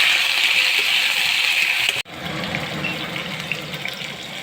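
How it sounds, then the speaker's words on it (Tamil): Brinjal fries in hot oil in a kadai, giving a steady bright sizzle that breaks off sharply for a moment, then resumes as a softer, busier crackle. "கடாயில் கத்திரிக்காய் போட்டுக்கோங்க. நல்லா வறுத்துக்கோங்க."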